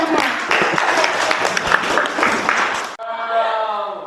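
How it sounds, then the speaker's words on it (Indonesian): Schoolchildren in a classroom clap together in a loud, dense round of applause lasting about three seconds, then it stops abruptly and a voice begins speaking. "Beri tepuk tangan untuk teman-teman."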